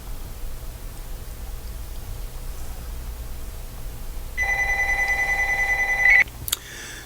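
A telephone rings indoors in a short electronic burst of steady tones, fairly clear above a low background hum, then stops abruptly.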